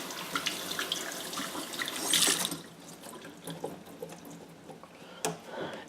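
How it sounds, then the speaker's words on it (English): Warm tap water runs into a sink and splashes while a hat is rinsed under it, the flow heavier at first and then easing to lighter trickles and drips. "Rinse off the hat one more time with just a little bit of warm water."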